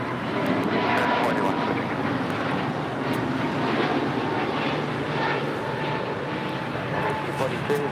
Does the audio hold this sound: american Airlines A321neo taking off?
yes